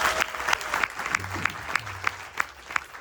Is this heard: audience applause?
yes